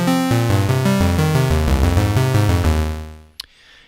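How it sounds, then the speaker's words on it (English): Wavetable synthesizer tone set between saw and square wave, playing a quick sequence of bright, buzzy notes for about three seconds before fading, with a short click afterward. "I'm just going to put wavetable on something between saw and square"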